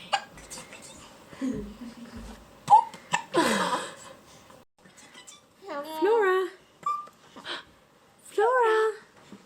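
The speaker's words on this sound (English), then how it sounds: "She's got hiccups." A little girl has the hiccups: short, sharp hiccup sounds come at uneven intervals, mixed with her high babbling and bits of nearby talk.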